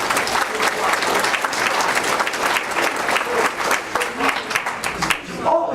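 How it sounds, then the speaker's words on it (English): A Rotary Club audience applauds its award recipients, a loud, sustained round of many hands clapping with crowd murmur mixed in, continuing throughout. "So let's give them a round of applause."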